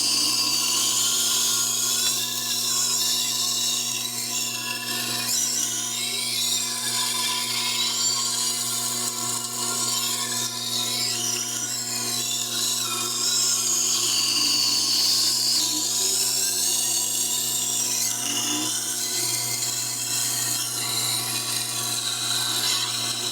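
A dull kitchen knife being ground to a Japanese bevel on a Tormek sharpener: a steady, continuous high-pitched whirring grind with a constant low motor hum underneath, close and unbroken throughout.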